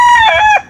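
A gamecock kept for an upcoming stag derby crows once, loud and close, its drawn-out call rising and wavering for under a second before cutting off.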